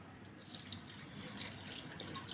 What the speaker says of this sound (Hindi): 1 कप मैंने पानी का डाला है।